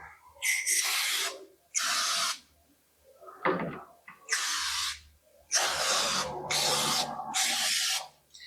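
An aerosol can of activator hisses in several short bursts, each a second or so long, separated by pauses and faint handling clatter.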